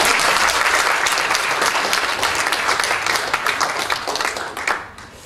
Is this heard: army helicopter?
no